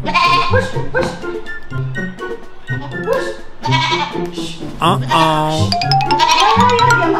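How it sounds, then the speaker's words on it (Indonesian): Repeated goat bleats, loud and close inside a house, wavering cries mixed with people talking nearby throughout. "Kok ada kambing masuk rumah?"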